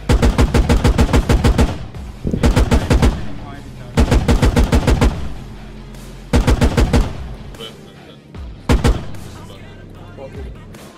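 A CTAS cannon fires at long range in a tank combat game, loud rapid bursts of heavy automatic shots in several clusters separated by short pauses, with distant impacts and a faint low rumble between them.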